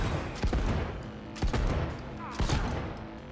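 Loud gunfire in the video game Cyberpunk 2077, three sharp heavy shots spaced about a second apart over a dense, continuous background of game noise.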